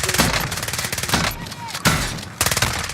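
Rapid bursts of gunfire from the video game Warzone, several loud automatic volleys separated by brief pauses, with faint voices mixed in behind the shooting.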